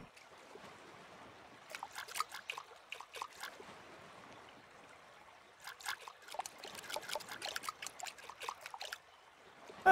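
Watering plants in the video game Summer in Mara: two separate spells of quick splashy trickling and pouring water, each lasting a couple of seconds, over a quiet background.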